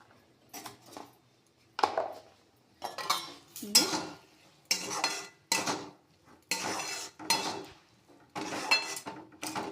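A spoon scrapes and stirs cauliflower with turmeric and Kashmiri chilli powder in a pan on a gas stove, giving about a dozen distinct, rhythmic scraping strokes separated by brief pauses, close and clear, with no speech.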